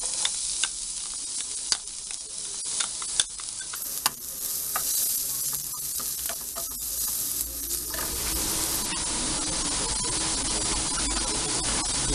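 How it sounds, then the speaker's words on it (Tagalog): Garlic sautés in a pan for Filipino ginisang bagoong alamang, a steady loud sizzle with scattered sharp crackles and occasional stirring scrapes throughout. "Gisa na natin ang bawang."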